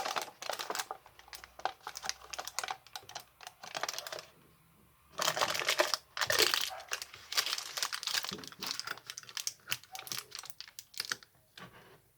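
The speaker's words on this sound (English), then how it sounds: "And I have some parchment paper to add to this." Parchment paper is crinkled and crumpled by hand while covering a jar of homemade fire cider, coming in close, papery bursts of rustling separated by brief quiet pauses.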